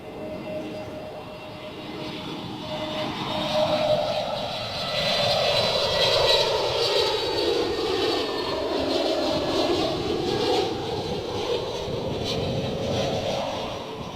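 A passenger aircraft lands at Bristol Airport in gusty wind, its engines roaring loud and steady with a shifting whine that falls in pitch as it passes close by.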